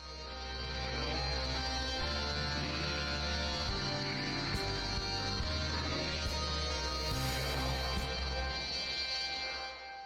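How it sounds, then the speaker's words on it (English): A reversed, swelling countdown effect in an electronic track for a fighting game soundtrack, a dense sustained wash with a steady low bass drone, loud and continuous for about ten seconds, no voices. "So now we use the reverse sound effect again,"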